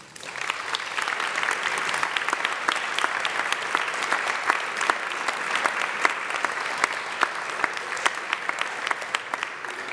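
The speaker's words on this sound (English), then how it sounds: "Would you please stand now for a round of applause?" A ceremony audience gives a sustained round of applause, dense clapping from a large crowd holding steady for the full ten seconds with no pause.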